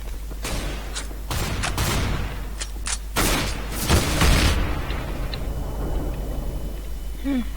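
Rapid bursts of gunfire and booming shots from a Counter-Strike: Global Offensive match against bots, loud and dense over steady game background noise, with a voice talking at times.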